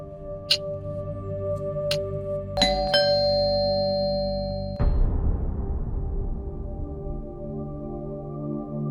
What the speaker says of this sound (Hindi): मना किया था ना आपको डोरबेल बजाने को